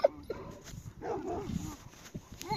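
A Kangal shepherd dog barks and whimpers in short, scattered yips and bow-wows, fairly faint and close-by, with some background rustle between the sounds.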